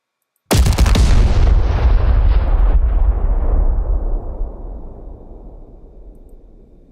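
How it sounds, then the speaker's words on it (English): A single powerful explosion detonation sound effect hits abruptly after a moment of silence, loud and booming, then rumbles and decays slowly over several seconds. "I just want an explosion."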